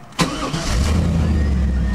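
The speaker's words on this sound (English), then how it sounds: "Starts and ticks over." A 1998 Chevrolet Camaro Z28 V8 cranks briefly, fires with a loud burst, and settles into a steady, rumbling idle close by, with no talk.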